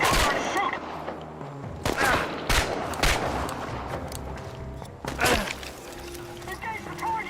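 Sporadic gunfire in the post-apocalyptic shooter Chernobylite, several sharp separated shots and short volleys at moderate distance amid ambient game sound, with a voice speaking between them.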